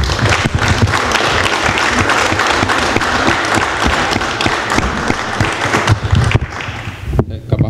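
Audience at a panel discussion on politics, religion and social movements applauds steadily and fairly loudly for several seconds, the clapping tapering off toward the end, with some voices mixed in.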